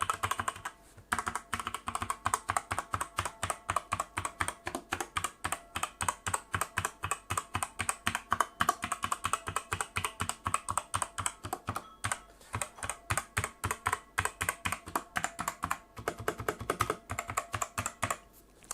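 Steady, fast typing on a Redragon K617 60% hot-swap mechanical keyboard fitted with silent red switches, producing dense, even muted clacks close up with short pauses, some faint spring ping, and no talk.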